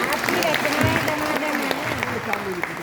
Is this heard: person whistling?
no